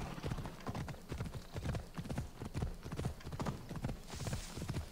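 Horse hooves clip-clop in a steady, brisk rhythm of many close, loud footfalls on the ground, continuing without a break, in the video game Assassin's Creed Odyssey.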